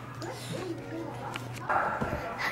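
Dogs bark and yip excitedly in a home setting, several short sharp barks and whimpers close by, mixed with people talking throughout.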